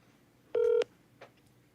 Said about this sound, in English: I'm gonna text PK right now